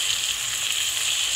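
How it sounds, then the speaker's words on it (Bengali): Parshe fish fry in well-heated oil in a pan, a continuous bright sizzle close by with steady crackle and no talking. "মাছ ভাজার সময় সবসময় তেল ভালো করে গরম করে নিয়ে ভাজতে হবে"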